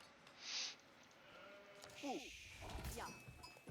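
Sheep bleat a couple of times in the Age of Empires strategy game, short wavering cries sitting low in a quiet mix under a commentator's voice.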